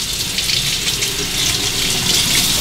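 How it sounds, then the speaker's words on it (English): Tap water runs steadily and loudly as a safety razor is rinsed under it during a shave, a continuous splashing hiss with no pauses and no voices. "Now I'll perform a quick rinse and we'll hit one more pass."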